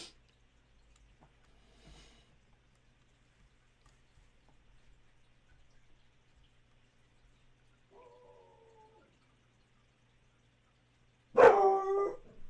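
Near silence with faint rustles, then a brief muffled bark or whine midway and a single loud, close dog bark near the end.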